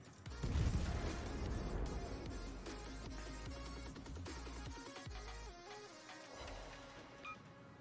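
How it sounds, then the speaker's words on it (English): A cruiser's salvo striking an enemy ship in the naval battle game World of Warships, heard as a loud booming crash up front and then a run of rumbling impacts and clanks over game music. "I just hit Grunty pretty good. That was a 3K salvo."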